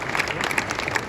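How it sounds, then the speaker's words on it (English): Audience applause at PiratesFest, a Pittsburgh Pirates baseball fan event: dense, steady clapping from a large indoor crowd, loud and continuous for about a second with no talk over it. "Yeah, go ahead and applaud."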